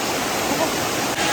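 A small waterfall pours into a hot-spring stream in Krabi, Thailand, giving a steady, dense rush of water that fills the whole moment without a break or any voices.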